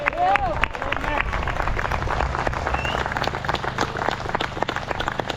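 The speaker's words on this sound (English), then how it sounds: "Another big round of applause for Mick there." Crowd applause at an outdoor protest at Stormont, scattered clapping and cheering at moderate distance with crowd chatter and a raised voice under it.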